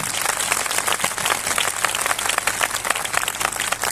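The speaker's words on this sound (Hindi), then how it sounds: "जोर से ताली बजा के प्रभु को धन्यवाद दो" Church congregation at a Christian gathering clapping loudly together, dense sustained applause for several seconds with no break.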